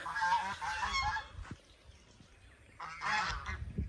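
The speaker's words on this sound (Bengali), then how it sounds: "পুকুরে রাজহাঁস রয়েছে" Geese or domestic swans at a pond give loud, close honking calls in two bursts, separated by a quieter pause with faint background sound.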